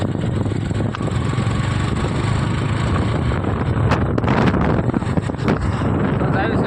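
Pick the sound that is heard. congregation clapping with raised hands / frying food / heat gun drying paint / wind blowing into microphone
wind blowing into microphone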